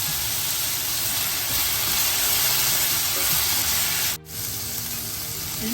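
Onions and capsicum sizzle with salt in a hot pan for a paneer capsicum stir-fry, a steady loud frying hiss throughout with a brief dip near the end, no voices.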